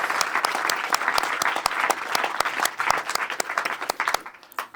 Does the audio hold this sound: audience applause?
yes